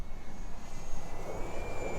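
Electric motor and propeller of a radio-controlled 850 mm Arrows P-51 park-flyer model airplane at full throttle during an upline, a steady high-pitched whine heard from a distance over outdoor wind noise.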